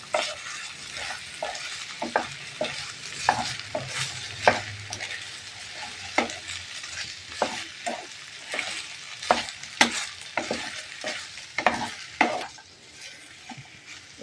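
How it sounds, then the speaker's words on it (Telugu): Taro root curry with onions and oil is stirred in a pan, making a soft background sizzle under many distinct scraping and clinking strokes of a utensil against the pan at an irregular rhythm. "మొత్తం కూర అంతా కలిసేటట్టు ఉల్లిగడ్డలతోటి నూనెతోటి"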